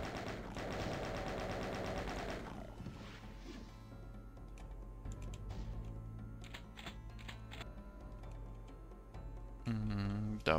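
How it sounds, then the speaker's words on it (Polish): A rapid burst from the chaingun in Doom 2: Eviternity II rattles out loud and fast in the opening seconds, then gives way to scattered quieter game sounds, clicks and a sharp effect near the end. "Tylko sobie zmienię na razie na chain guna"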